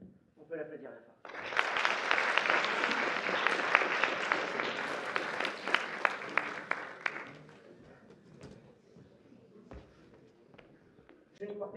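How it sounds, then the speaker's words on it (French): At a live mentalism stage show, the audience breaks into steady applause that lasts about six seconds and then fades. Shuffling and a few isolated claps trail off afterwards, with brief speech at the start. "On peut l'applaudir la fin."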